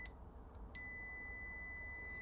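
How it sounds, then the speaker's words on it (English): A multimeter's continuity beep: a continuous high-pitched electronic tone starts after a brief blip and holds steadily, close and fairly faint, with no talking. "you can hear that beeping."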